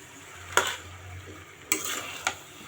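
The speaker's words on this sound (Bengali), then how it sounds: "তারপর আমার আম্মু ভালো করে নেড়ে নেড়ে নেড়ে নেড়ে নিচ্ছে" Chicken pieces being stirred while cooking in a pan with spices, three distinct scraping clunks of the spoon over a soft, steady sizzle.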